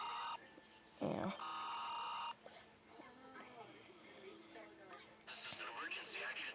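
A mock Emergency Alert System alert plays. Harsh, steady electronic tones sound in separate blasts, the first two back to back and the last after a stretch of quieter announcer-like voice.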